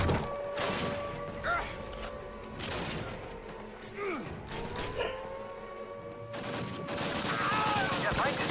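Gunfire rattles through the Call of Duty Classic video game in repeated bursts and shots, with whooshes, impacts and mechanical game effects layered over a busy, loud mix.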